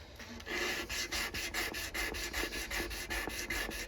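A steel knife blade is rubbed back and forth on 400 grit sandpaper in a steady series of close, rasping strokes, about three or four each second, with no talk.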